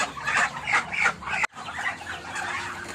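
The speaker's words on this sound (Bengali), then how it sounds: "হ্যাঁ, এই হাঁস তো মারামারি শুরু করে দিয়েছে।" Ducks squabbling on a duck and chicken farm, loud close quacking and agitated clucking in a quick burst, a brief break, then more scattered calls.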